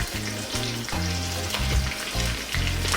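Sliced onion with crushed ginger and garlic sizzling in hot coconut oil over slightly-above-medium heat, a steady close frying hiss with stirring scrapes and no talk.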